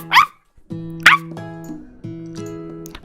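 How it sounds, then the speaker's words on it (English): A dog barking in a dating sim video game, two sharp barks followed by a sustained musical tone with shifting pitches, close and loud. "Bark! Woof woof."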